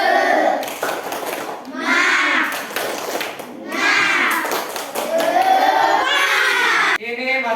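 Children perform the tepuk semangat clapping chant together, rhythmic hand claps mixed with loud chanted group voices throughout, close and energetic, filling the room.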